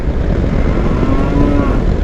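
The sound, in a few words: cows mooing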